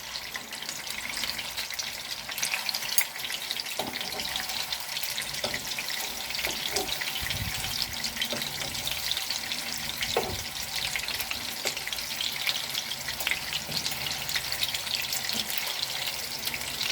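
Meatballs sizzling in a pan, a continuous bright hiss of frying with occasional crackles and pops, steady throughout with no voices.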